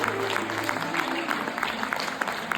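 A live audience claps in a continuous patter of many hands, moderately loud and sustained, with a low tone lingering underneath at the start.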